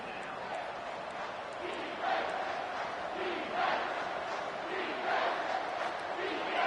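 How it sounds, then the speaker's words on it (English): A college football stadium crowd at Sam Houston vs. FIU roars on third down, a broad sustained noise swelling in repeated waves, with a commentator talking over it. "Third down and the crowd really getting into it."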